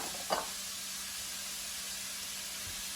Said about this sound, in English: you want to go ahead and brown your hamburger meat